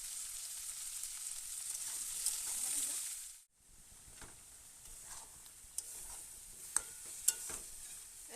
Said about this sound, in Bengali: আদা রসুন পেঁয়াজ জিরের গুঁড়ো হলুদ লঙ্কার গুঁড়ো সব দিয়ে মশলা কষাচ্ছি